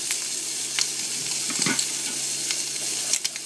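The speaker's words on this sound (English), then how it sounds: "The searing action we needed." Bream fillets and bacon sear in a hot frying pan, giving a steady, loud, continuous sizzle with occasional small crackles and pops, and no voices.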